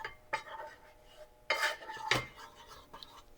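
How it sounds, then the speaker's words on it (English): A whisk scrapes and clinks against a pan while flour and butter roux is stirred for béchamel sauce, giving light metallic taps and a few sharper knocks in an irregular rhythm, close and fairly quiet. "And keep mixing all the time when you're preparing the sauce bechamel"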